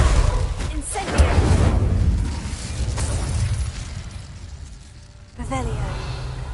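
A fire spell cast in Hogwarts Legacy bursts into a loud, roaring whoosh of flame that swells and fades over several seconds, then flares again near the end, with a voice briefly heard amid it.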